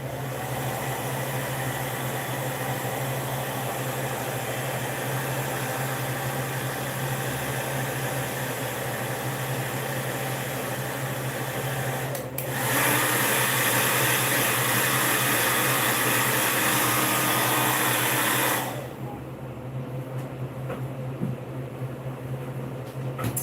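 Heat gun setting airbrushed paint on a fishing lure, a steady loud blowing whir with a fan-like hum that jumps in intensity partway through, then cuts off abruptly, leaving quieter room noise.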